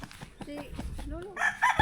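Farm chickens make short clucks, and a rooster crows with a rising call. The sounds are brief and fairly close, mixed with other noise that may include voices.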